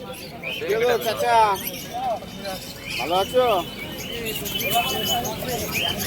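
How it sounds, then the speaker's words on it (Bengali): Pigeons at a busy pigeon market give out short chirping calls in bursts close by, mixed with a background murmur of people talking. "এ হচ্ছে মাদি পায়রা"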